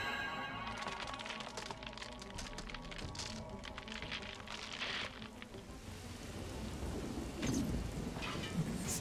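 Thunderstorm in the video game Stranger of Paradise: Final Fantasy Origin: steady, dense rain hiss with low rolling thunder, growing heavier and louder toward the end, with no one talking.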